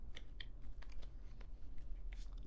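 A deck of tarot cards being shuffled by hand, giving a run of soft, close, irregular riffling and crunching snaps over a steady low background hum.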